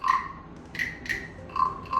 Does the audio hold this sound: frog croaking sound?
yes